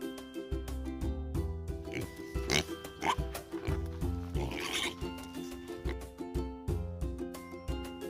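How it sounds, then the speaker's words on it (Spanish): Playful pig oinks from a kids' animal sounds lesson, several snorting grunts in bursts over bouncy background music with a voice speaking. "El cerdo hace."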